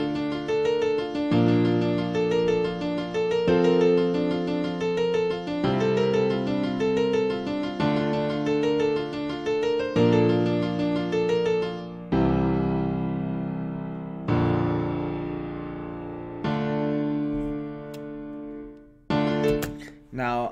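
Original FL Studio beat with a melody resembling the Flash theme, a loud synth line over steady bass and drums that drops into sustained chords and sparse hits in the second half.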